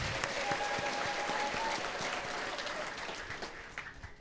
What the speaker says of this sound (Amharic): መጀመሪያ ታላቅ ጭብጨባ እልልታ ለእግዚአብሔር ክብር።